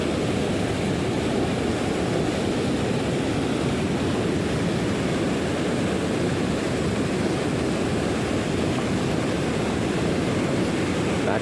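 Steady, loud rush of water waves breaking in front of a dam, a continuous broadband wash with no pauses or distinct crashes and no talking.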